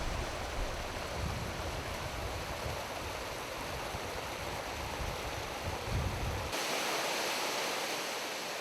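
Many streams of water pour down the Manpokdong valley in the Kumgang Mountains, making a dense, continuous rushing roar that thins abruptly near the end, with no speech.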